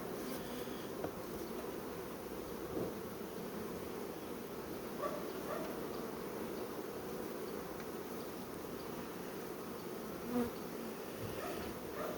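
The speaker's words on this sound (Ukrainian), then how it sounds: "Тому що бджоли там реально є" Bees swarming densely over the frames of an experimental two-queen hive after the honey flow, a steady, even buzzing drone that stays constant and close, with a few faint knocks.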